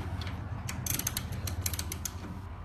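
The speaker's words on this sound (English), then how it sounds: "I'm just going to go ahead and loosen this nut up on the actual headlight" A wrench loosens a nut on the headlight of a 1943 Willys MB Jeep, giving a close run of quick metallic ratcheting clicks over a low background hum.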